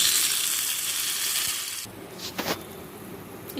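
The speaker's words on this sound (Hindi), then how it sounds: "इस तड़के को मैंने इस बैटर में डाला है।" A hot curry-leaf tempering hits the batter with a loud, close sizzle that fades over a couple of seconds, followed by a few soft wet mixing and scraping sounds.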